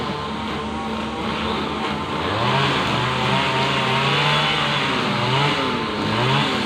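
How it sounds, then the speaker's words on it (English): A patrol car engine idles and hums nearby, its pitch rising and falling slightly as it revs, steady and continuous with no talking. "this is just a patrol car right in front"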